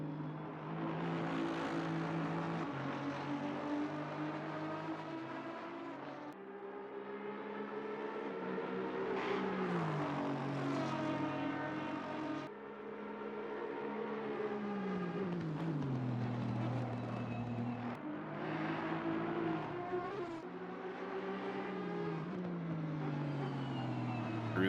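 Race car engine lapping the Nürburgring in the ACC racing game, a loud sustained drone whose pitch climbs and falls repeatedly through gear changes under constant engine noise.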